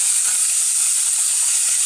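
Chili and cumin paste fries in hot oil, giving a steady, loud, close hiss that runs unbroken for the whole short stretch.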